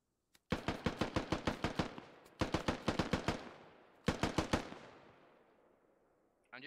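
Gunfire in the military shooter Squad comes as three rapid bursts of automatic fire, each several sharp, loud shots in quick rhythm with a fading echo between bursts.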